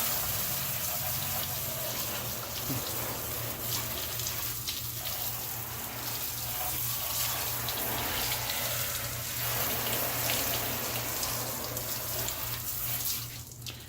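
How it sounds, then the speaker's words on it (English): Water rinses out a car's wheel well with the tires off, a steady close spray and hiss running unbroken for about fourteen seconds with no talking. "And then we're just going to rinse off."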